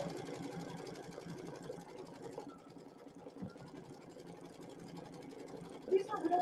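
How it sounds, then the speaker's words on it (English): An embroidery sewing machine stitching a design onto a plain cotton tea towel gives a steady, rapid mechanical chatter that runs continuously at close range, with brief louder clicks near the end. "you watch it sew for a second"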